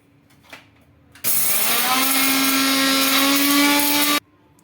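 A mixer grinder coarsely grinds mustard seeds and fenugreek for tomato chutney: a loud, steady motor whine kicks in abruptly, runs for about three seconds with a slowly rising pitch, then cuts off sharply, heard close with no talking.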